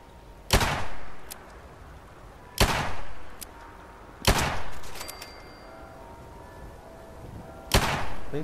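Gunfire in the video game Fallout 76: four loud, sharp shots spaced a couple of seconds apart, each trailing off in a short echoing tail over a low ambient background.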